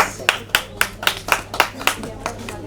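Clapping at a magazine cover unveiling event, about ten sharp claps in an even rhythm from a small group, fairly close and distinct over a low background hum.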